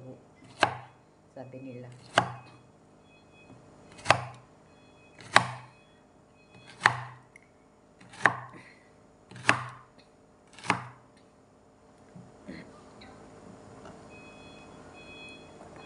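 Onion and carrots being chopped with a knife on a board, eight sharp, evenly spaced cuts landing roughly every second and a half, close and clear, then a quiet stretch with a brief spoken phrase.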